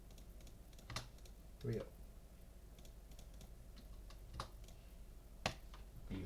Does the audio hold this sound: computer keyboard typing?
yes